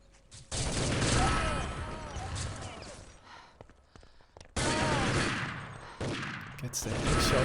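Gunfire in a competitive tactical shooter match, with bursts of rapid shots at the start and again midway, separated by a quieter pause. A distant crack follows near the end. A voice talks faintly underneath.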